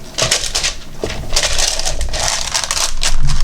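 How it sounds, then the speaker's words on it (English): Parchment paper being laid out and handled for a resin mold, giving loud crinkling and crushing rustles in uneven bursts close by, with no talking. "I'll put some parchment paper"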